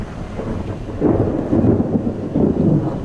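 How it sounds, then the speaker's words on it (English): Deep thunder from an approaching storm rolls over a Georgia state park campground, with low swelling rumbles rising in two waves. Distant but heavy, with a steady rain-like hiss beneath and no talk. "It's about to storm."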